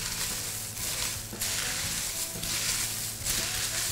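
Walnuts stirred into a thick no-bake cornflake cookie mixture, giving steady scraping and rustling in repeated waves, close and moderately loud with no talking.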